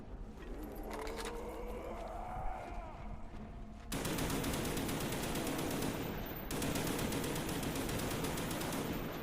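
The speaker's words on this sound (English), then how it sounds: "Might as well use up the ammo in the HK" Rapid automatic gunfire from an HK weapon shooting zombies on the Moon map in a round-based zombie video game, loud sustained bursts filling most of the clip after quieter game ambience at the start.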